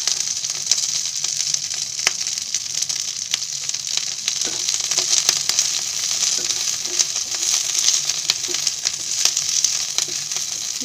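Curry leaves fry in a small amount of oil for chutney, crackling and sizzling steadily up close with scattered sharp pops and light stirring scrapes, alone without talk.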